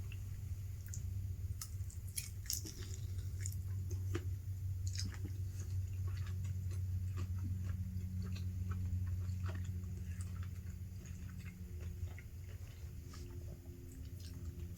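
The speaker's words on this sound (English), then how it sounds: "Let's go in for a taste test." Close, crunchy chewing of crispy spicy buffalo wings made in an air fryer, with soft wet bites and clicks repeating steadily over a low steady hum for the whole stretch, no talking.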